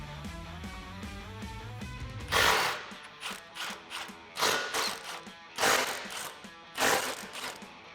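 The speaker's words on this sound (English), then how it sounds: "grab a 15mm socket and loosen both the nuts on each of these pipes" A 15mm socket and ratchet loosening exhaust pipe nuts on a 2018-2020 Mustang GT, a series of close, clicky ratcheting bursts in an uneven rhythm following a stretch of quieter background sound.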